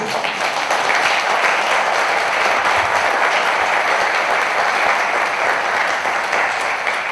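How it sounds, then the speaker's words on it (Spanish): An audience at a mystery-themed talk in Zamora applauds the unpaid speakers, with steady, dense clapping that stays loud and even throughout, with no voices heard. "yo creo que merecen un aplauso solamente por eso"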